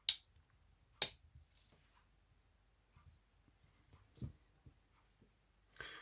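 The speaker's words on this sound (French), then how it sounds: "La pince." The pliers of a Victorinox Deluxe Tinker multitool click and clack sparsely as it is handled, with a few sharp snaps and soft rattles separated by quiet gaps.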